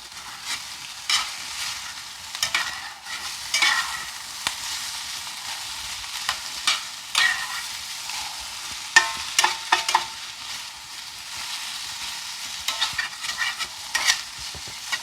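Peppers tumble into potatoes roasting with sun-dried tomatoes in a cast iron skillet, giving a steady stir-fry sizzle with repeated scraping and stirring clatters, fairly close and with no voices.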